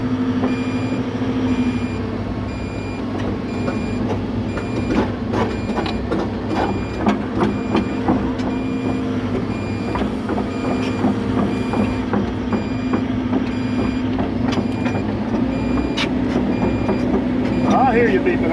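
Steady electronic beeps from a reversing truck with a custom-built plow repeat throughout over a rumbling idling engine, with occasional clanks and a voice briefly speaking.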